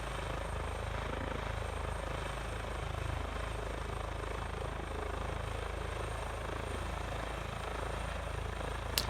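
An EC145 air ambulance helicopter in Microsoft Flight Simulator gives a steady, even turbine and rotor drone, moderately quiet and unchanging, with a brief click near the end and no voices.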